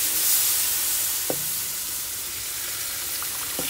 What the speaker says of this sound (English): So now we are going to put our broth, okay?